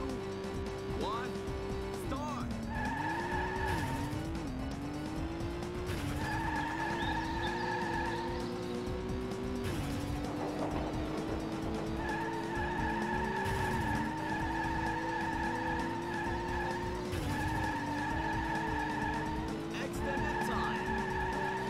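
Race car in the OverRev arcade game, engine revving and dipping through gear changes while repeated tire skids squeal in regular bursts, loud and continuous over arcade background tones.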